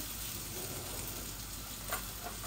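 Potatoes frying in a small amount of oil in a pan, a steady, dense sizzle with soft crackle holding at an even level throughout, close by and with no voices.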